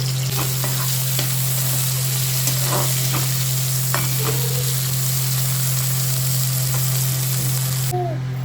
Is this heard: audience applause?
no